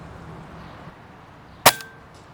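A precision airgun fires a single sharp shot through a chronograph, crisp and close, with a short metallic ring after it against faint outdoor background.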